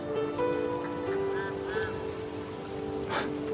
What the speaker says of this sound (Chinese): 好像是黄鹂在叫